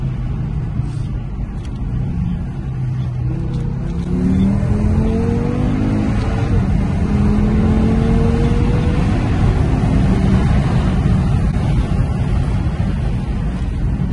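An Audi RS3 8V facelift accelerates hard, a steady loud engine drone with rising tones as it pulls through the gears of its 7-speed gearbox, growing slightly louder partway through with no talking.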